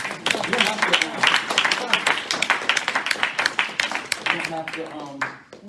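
Audience applause following the end of a poem at a rap, hip-hop and poetry evening, a steady run of many hands clapping at close range for several seconds before tapering off, with a voice speaking near the end.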